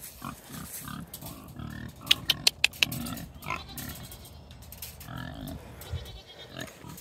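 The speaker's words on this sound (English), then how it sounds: "Just take my fucking pigs on a walk." Pigs out on a walk grunt and squeal repeatedly outdoors, a series of close, uneven snorts with a burst of sharp clicks in the middle, while someone talks intermittently.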